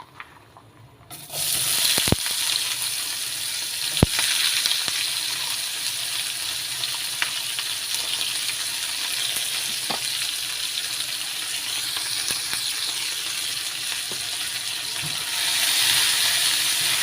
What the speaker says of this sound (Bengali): তেলের মধ্যে পেঁয়াজ কুচিটা কিছুক্ষণ ভেজে এরপরে আমি মশলা অ্যাড করব।